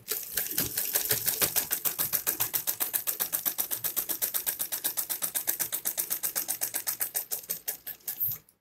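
A sewing machine runs steadily, stitching a seam into leftover fabric for a designer dress with a fast, even needle rhythm, close and clear, then stopping abruptly near the end.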